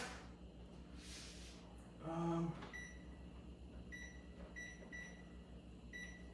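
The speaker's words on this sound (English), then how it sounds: "So let's put a timer." A kitchen timer set while cooking chicken milanesa gives a few short, faint electronic beeps in a quiet kitchen with a low hum in the background.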